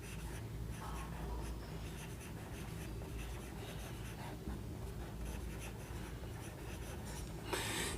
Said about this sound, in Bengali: আমরা সংজ্ঞাটা লিখব।